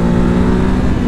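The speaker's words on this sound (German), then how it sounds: "das ist halt so ein genialer Motor" Ducati Hypermotard 950 SP with its 937 cc V2 engine pulling hard under acceleration on a road ride, a loud, steady close-up engine roar with no talk.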